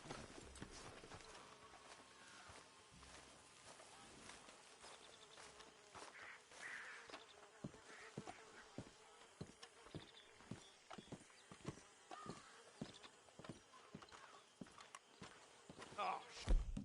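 Horses walk with steady, evenly spaced hoof clops on the ground in Red Dead Redemption 2, under a constant hum of insects and flies, while voices talk at times.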